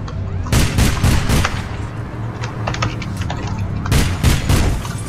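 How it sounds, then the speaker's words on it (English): Gunfire rings out in the video game APB Reloaded: loud, rapid bursts of shots crack in clusters near the start and again toward the end, with a rumbling background between volleys. "I'm gonna have to go jump out and shoot them"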